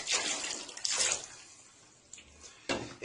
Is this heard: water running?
yes